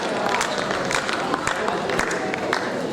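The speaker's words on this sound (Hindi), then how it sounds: "रघुवीर जी का अभिनंदन हम सब तालियों के साथ एक बार फिर अपनी भावनाएं अभिव्यक्त करेंगे" An audience at a birthday celebration for magician S.K. Nigam claps for Raghuvir Yadav, a steady patter of applause with scattered sharper claps running throughout.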